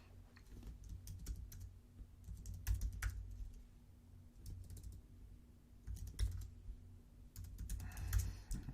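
Someone types on a computer keyboard in quick irregular bursts of close, soft key clicks with brief pauses, over a low steady hum and no talking.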